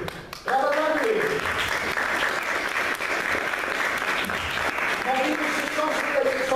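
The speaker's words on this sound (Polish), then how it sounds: "Brawa dla nich." A convention panel audience breaks into loud, sustained applause for contestants after a quiet start, a dense clapping roar that holds throughout while voices and cheers rise over it near the beginning and end.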